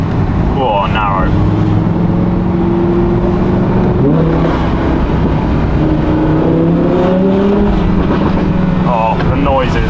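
A car drives along a road, its engine note holding then rising and shifting as it revs, with wind buffeting the microphone and people talking over it.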